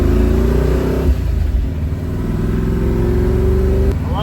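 A twin-turbo big-block Ford Fairmont drives with a loud, close engine that revs and shifts, its pitch climbing, dropping after a gear change and rising again.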